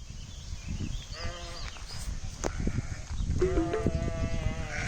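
Babydoll sheep lambs bleat outdoors on a ranch, several wavering calls rising over steady wind-like background noise.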